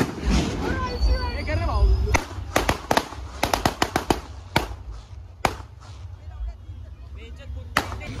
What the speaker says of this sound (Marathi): आता आम्ही फटाके फोडून चाललोय घरी